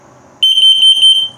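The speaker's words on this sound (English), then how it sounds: "carbon monoxide coming up" The carbon monoxide detector in a 2021 Flagstaff Micro Lite 21DS RV trailer sounds during a test, a loud, piercing electronic tone of about one second with quick pulsing breaks, close to the microphone.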